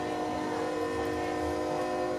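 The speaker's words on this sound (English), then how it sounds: "Obviously, you can hear the train." A train passes near a warehouse, giving a steady, fairly loud rail rumble with sustained whistle- or horn-like tones held throughout, with no talk over it.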